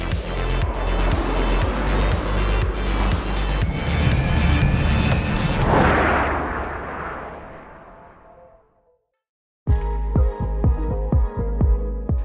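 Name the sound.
Lotus Evija hypercar accelerating on track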